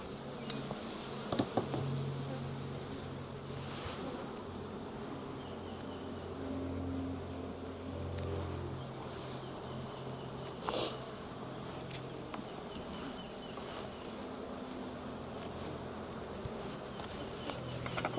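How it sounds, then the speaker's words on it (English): Honey bees buzz softly and steadily around a hive, with a few louder passes close by and some light clicks and knocks. "See all those bees right there?"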